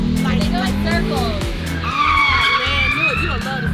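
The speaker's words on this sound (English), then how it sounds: "They're just kids doing burnouts." Cars doing burnouts at a street takeover, with loud tires squealing and skidding in long rising and falling wails over throaty revving engines, while a crowd talks and shouts nearby.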